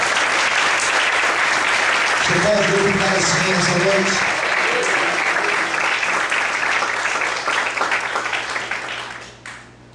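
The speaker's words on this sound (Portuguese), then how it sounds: "Desocupa a sua mão e aplauda o Senhor bem forte" Loud applause from a church congregation during an evangelical service, dense clapping filling the room while a preacher speaks over it, fading out toward the end.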